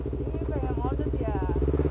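A Yamaha YZF-R25 motorcycle engine thrums with a close, steady, pulsing beat while being ridden, as a voice talks over it.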